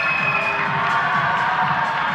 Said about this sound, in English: The crowd have woken up again.